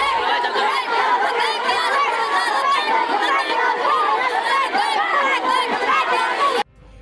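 A dense crowd in Bareilly makes a loud, continuous commotion at a street protest after Friday prayers, a constant roar of overlapping shouting and chatter that cuts off abruptly at the end.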